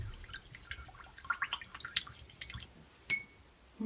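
A paint brush scrubbed back and forth in brush preserver liquid, giving soft wet squishing and dripping ticks, quiet and close, with one sharper click near the end.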